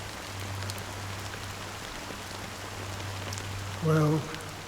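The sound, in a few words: rain falling in Honkai Star Rail video game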